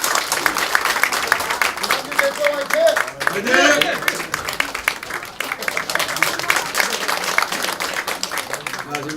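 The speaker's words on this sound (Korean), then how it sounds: "김한길 대표님께 다시 한번 큰 박수 보내주시기 바랍니다" Crowd at a campaign office opening in Seongnam Jungwon claps continuously, a busy patter of many hands, while a man cheers and other voices speak over the applause.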